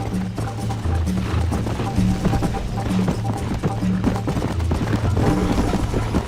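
Horses galloping in a Red Dead Redemption race, a steady dense clip-clop of hooves running continuously under a layer of game music and ambience, with no clear neigh standing out.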